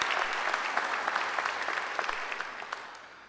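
Audience applause at a Macquarie University graduation ceremony, a steady wash of many hands clapping that carries on without voices and slowly fades toward the end.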